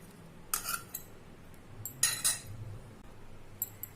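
A spoon stirs amla pickle in a pan with tamarind pulp, fried garlic, mustard seeds and turmeric, giving a few separate metallic clinks and scrapes against the pan over a quiet background.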